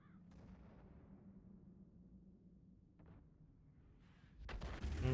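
Artillery fire from an SU-14-2 in World of Tanks booms faintly at a distance over a low rumble, then a louder, heavier blast erupts near the end.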